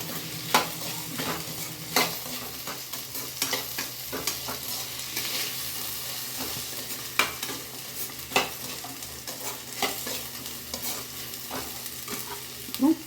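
Potatoes frying in a pan for a Nilgiri green vegetable kurma, with a steady sizzle throughout and a spoon scraping and stirring now and then, close up with no talk.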